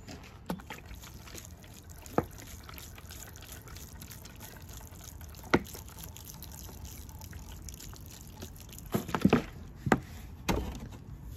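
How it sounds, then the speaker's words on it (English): Water is poured onto a freshly repotted mountain ash tree in well-draining soil, giving soft trickling and dripping with a few sharper splashes and taps, close by and without talk. "Get some water on that."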